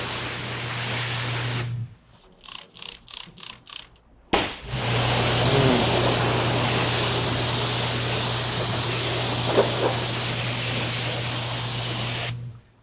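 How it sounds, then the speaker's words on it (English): Several rapid pumping spritzes from a trigger sprayer of McKee's car detailing product onto a wet panel, then one long, loud, steady hiss of spray that runs for several seconds before stopping abruptly. "So the way this works is you spray it"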